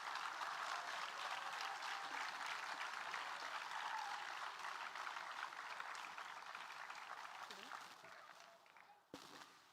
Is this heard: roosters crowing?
no